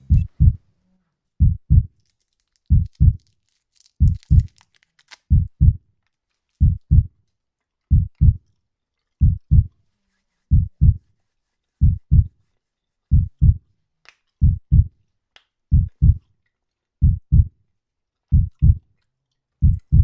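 A heartbeat sound effect: regular lub-dub double thumps, strong and close, repeating steadily about every 0.8 seconds and heard alone with no talking.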